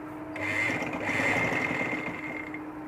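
A sewing machine hums steadily for a few seconds nearby as it stitches a sleeve onto an umbrella-cut baby frock, a continuous fast whirring run.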